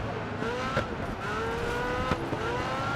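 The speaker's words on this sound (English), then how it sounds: "I guess I'm shooting out a little bit of flames too, and I'm revving" A drift car's engine revs hard during a race in GRID Autosport, a sustained rising and falling whine with tire noise mixed in, at moderate volume throughout.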